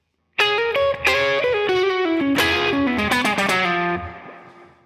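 Slow blues lick on a distorted electric guitar in an eight-bar slow blues, bent sustained notes with vibrato ringing out alone for about four seconds before fading.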